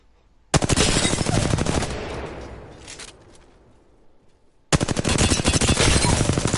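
Rapid automatic gunfire in a video game, loud close bursts of fast repeated shots that stop for a few seconds and then resume just as hard.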